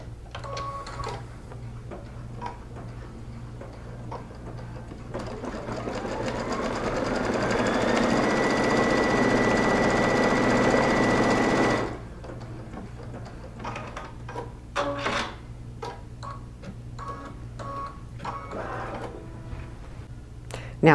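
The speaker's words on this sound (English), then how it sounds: "And let's stitch that line again." A sewing machine stitches a line through fabric in one sustained run that ramps up to a steady, fairly loud whir and then stops, with quiet handling clicks before and after.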